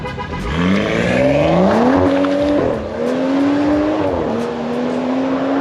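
A loud BMW M235i engine with a stage 2 upgrade revs hard, pitch climbing and dipping through several rising pulls, with no talking.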